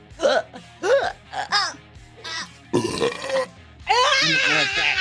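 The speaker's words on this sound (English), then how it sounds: "I'd like to just open my mouth and then just belch at the little flappy one" A person lets out a series of loud, drawn-out belches at close range, several separate burps with short gaps, ending in one long, strained eructation.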